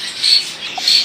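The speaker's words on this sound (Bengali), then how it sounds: "এখানে রয়েছে ক্রিমিনো কালার একজোড়া মাস্টার পিয়ার বার্সিকের পাখি।" A pair of creamino budgerigars at a busy bird market in Tongi give two short, thin, high squawks, close but fairly soft, with a faint chirp between them.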